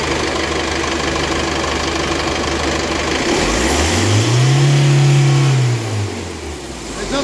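A common rail diesel engine on a practical class test setup runs steadily at wide open throttle, a loud continuous rumble that swells into a higher, rising tone midway and then eases back down.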